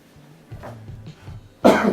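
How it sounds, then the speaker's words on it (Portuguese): Quiet room murmur, then one sharp, loud cough bursts out near the end, close and harsh. "Desculpa a tosse."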